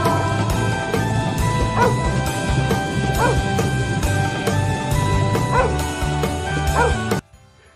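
A dog barks and yips in a steady, repeated pattern throughout, set against a busy musical backing of a children's alphabet phonics song, before cutting off abruptly near the end.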